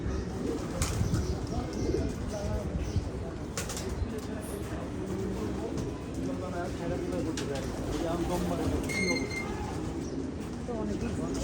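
Pigeons coo from a rooftop loft in a steady low murmur, mixed with a busy outdoor background and a person talking nearby.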